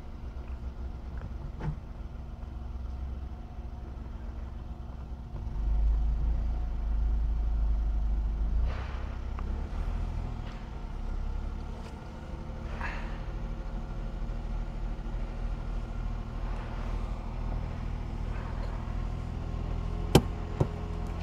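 Car engine revving with too much gas during a hill start on a UK driving lesson, a low droning rev that rises and holds for several seconds before settling back to an idle hum inside the cabin, with a couple of sharp clicks near the end.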